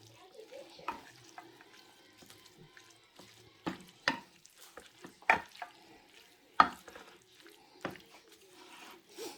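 Feta pasta being stirred in a pan, soft scraping and sticky squelching strokes in an irregular rhythm, close and fairly quiet, with a few sharper knocks of the utensil.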